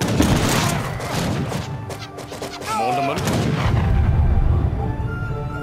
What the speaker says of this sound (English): Sahin the Falcon is advancing with great bombards